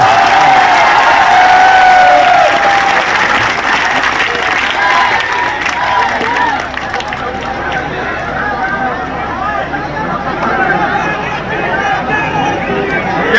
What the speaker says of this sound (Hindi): जोरदार तालियां और बार।